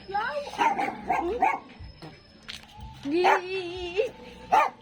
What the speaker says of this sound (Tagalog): Hello mga dog. Oh, what's up, doggies?